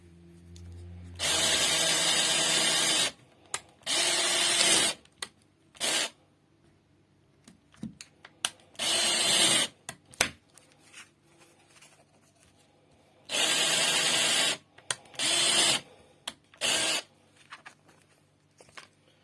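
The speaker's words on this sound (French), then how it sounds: "Je vais du coup faire les trous ici pour pouvoir passer vraiment les bâtons." Repeated bursts of a power drill boring holes through recycled materials while building a small game, each loud whirring run lasting one to two seconds and separated by quiet pauses and small handling knocks.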